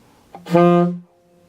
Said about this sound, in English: not pressing the octave key and playing low D